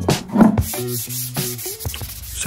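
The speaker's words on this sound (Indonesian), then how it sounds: "yaitu di amplas lagi ya teman." Steady back-and-forth rasping of sandpaper rubbed by hand over a wooden porch chair after sanding sealer has dried, a series of close, even strokes with no voices.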